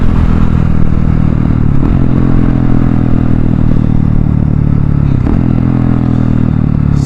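A Husqvarna 701 single-cylinder motorcycle pulling hard in fifth gear at around 5,000 RPM, a loud continuous engine drone with wind rush, steady and close with no talking.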